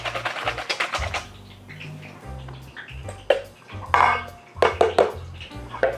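Milk and cake flour being stirred together in a bowl for strawberry fritter batter, giving a run of scraping, clinking utensil strokes against the bowl, near and fairly loud, with occasional sharper knocks.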